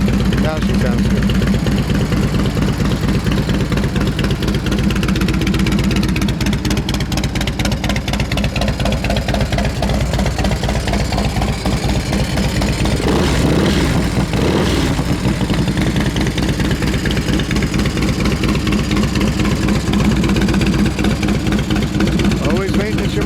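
Harley-Davidson Evo motorcycle engine idles steadily with a deep, continuous loping rumble for over twenty seconds, close and loud, with a brief rise partway through.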